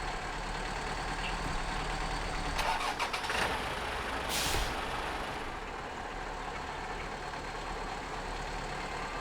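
A truck engine in the video game SnowRunner cranks and catches partway through, rising from a low background rumble to a short burst of starter noise and then settling into a steady idle, heard alone without talk.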